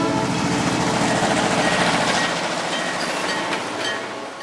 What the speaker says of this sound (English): awakened in the wee hours one morning by the sound of a passing freight train outside his bedroom window